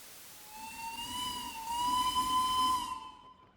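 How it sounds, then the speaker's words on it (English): Steam train whistle in a railroad video game, a long steady hissing tone that swells louder while the train passes through a tunnel and then trails off, heard alone. "the tunnels actually echo when you whistle in them"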